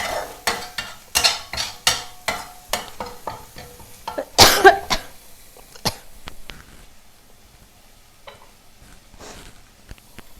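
Red curry paste for a spicy pork belly and eggplant stir-fry is stirred in a pan. Close, rhythmic spatula scrapes come about every half second, then give way to a faint sizzle with no talking.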